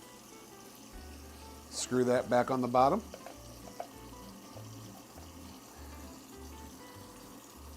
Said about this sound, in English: This is also a little mesh filter, so just rinse that out as well.